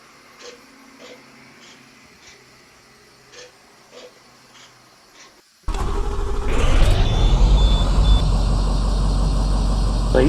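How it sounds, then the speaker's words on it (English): IC bus engine in Rigs of Rods, preceded by faint periodic mechanical clicks, then an abrupt loud start that settles into a steady, heavy low diesel idle with a whine easing down. "I use this idle sound for both the inside and the outside."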